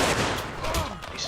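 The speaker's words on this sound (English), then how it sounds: "Decent volley there." Muskets fire in a ragged volley during a Civil War battle in the Mount & Blade Warband game, several sharp cracks overlapping within about a second, moderately loud over a dense background.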